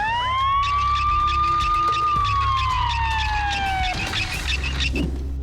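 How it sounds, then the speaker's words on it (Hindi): A siren wails loudly and continuously, one long rising then falling tone sweeping slowly across several seconds, close by. "हे, एम्बुलेंस, फौरन आओ।"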